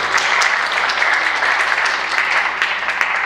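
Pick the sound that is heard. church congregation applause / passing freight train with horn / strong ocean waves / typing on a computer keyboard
church congregation applause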